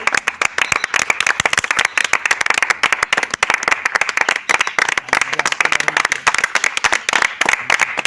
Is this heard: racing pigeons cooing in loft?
no